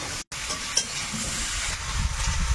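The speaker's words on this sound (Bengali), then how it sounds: "এইটা একটু ভেজে নিয়ে আলাদা করে তারপর দিয়ে দেবো।" Chopped pieces frying in hot oil, a steady close sizzle with soft stirring scrapes, briefly cut off near the start, with no one talking.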